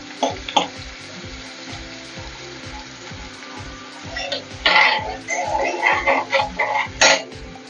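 Garlic paste and onions fry in a pan for a Tamil egg gravy, a steady sizzle under a regular ticking pulse, with louder bursts of spitting and crackling toward the end.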